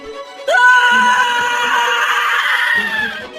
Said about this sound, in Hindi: भयानक चीख की आवाज आती है